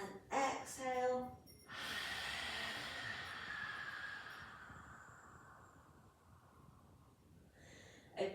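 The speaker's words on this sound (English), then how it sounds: "Inhale. And exhale." A yoga student takes slow, deep breaths during a class, a long audible inhale and then a drawn-out, fading exhale, close and soft against a quiet room.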